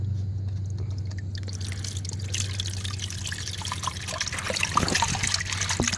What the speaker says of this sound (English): All this water that's coming out is the line draining because this is the lowest point of the system.